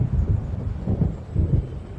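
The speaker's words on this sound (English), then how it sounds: "It seems there's a storm coming." Low rolling thunder of an approaching storm near a lake in Alan Wake Remastered, a deep continuous rumble that swells in soft pulses, heard alone.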